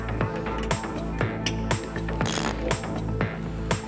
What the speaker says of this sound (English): We now tighten the bolts of the locking mechanism